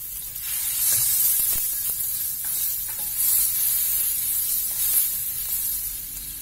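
Onions sautéing in melted butter in a home kitchen pan while making macaroni schotel: a steady bright sizzle runs throughout, lightly shifting now and then as the pieces are stirred, with no talking.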